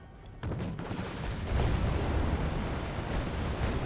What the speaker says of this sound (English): Dropping those J-Dam bombs on top of the K-Run.